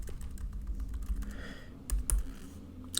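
Keys clatter steadily on a computer keyboard while Python code is typed, a dense stream of close clicks with a few louder taps near the end.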